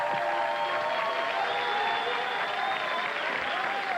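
A game show studio audience applauds and cheers in a steady, dense wash of clapping that holds loud and continuous throughout, with no break or speech on top.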